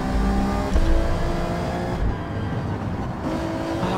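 Alfa Romeo 155 DTM race car engine in Gran Turismo 7, a loud continuous roar with shifting harmonic pitch as it revs and changes gear, one brief dip midway, no talk over it.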